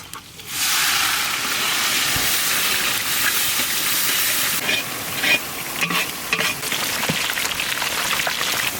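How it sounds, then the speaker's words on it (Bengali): Onions fry in mustard oil with bay leaf and whole cumin, a loud, close, continuous sizzle with scattered spits and stirring scrapes, no voices. "পেঁয়াজ আমাদের লাল লাল ভাজা হয়ে গেছে"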